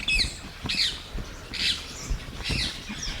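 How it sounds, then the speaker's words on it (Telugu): Birds squawking and chirping at a small village temple, loud, close calls arriving in repeated bursts about once a second, with no talk over them. "అంటే వింటున్నారు కదా, కిలకిల రావాలు, ప్రకృతి పారవశ్యం"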